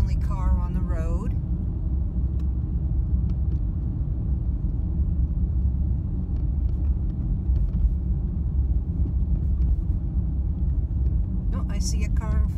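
A car drives along an empty Florida road, a steady low in-cabin rumble of engine and tyres, with a person speaking briefly at the start and end.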